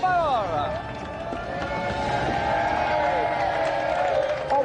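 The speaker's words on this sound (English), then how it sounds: "let's have another round of applause for our special guest" A television game show studio audience applauds steadily for a celebrity guest, a broad, even wash of clapping with scattered cheers beneath a presenter's voice and a bright musical sting.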